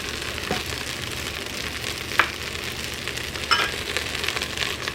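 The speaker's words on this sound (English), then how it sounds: "So we let our onions saute about 8 minutes." Chopped onions sauteing with tomato paste in a cooking pot, a steady soft sizzle and crackle of frying throughout with a couple of brief stirring clicks, heard alone at close range.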